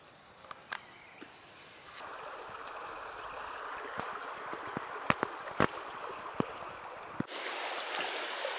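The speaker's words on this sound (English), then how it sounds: "Beautiful stream. That's the brook." A brook on the Southern Upland Way in Scotland flows under a bridge with a soft continuous rushing gurgle, quiet at first and then fuller, with scattered small clicks and knocks nearby.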